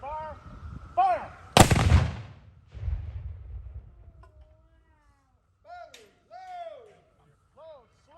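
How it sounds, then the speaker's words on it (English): A single ceremonial salute round fired on Memorial Day 2021 gives one loud, sharp boom with a rolling tail. Birdsong and faint voices come before and after it. "Fire one round for all those who died in the Spanish-American War."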